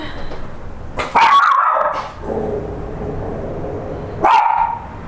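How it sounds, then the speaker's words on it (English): A dog barks twice, a few seconds apart, each bark sharp and fairly loud against a quiet, windy outdoor background. "Hence the reason Emma is barking"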